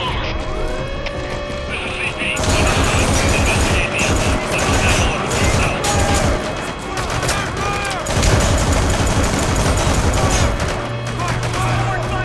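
Rapid overlapping shotgun blasts from a glitched 100-barrel coach gun in Metal Gear Solid V: The Phantom Pain, a loud continuous barrage with mechanical clatter, mixed with game sounds and voices talking over it.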